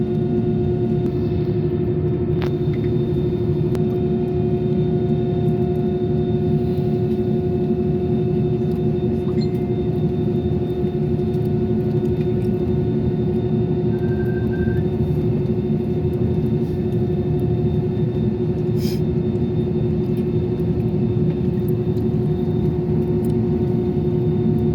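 Airplane cabin on the runway before takeoff: a steady, loud engine drone and low rumble with a constant tonal hum, continuous throughout with only faint brief clicks.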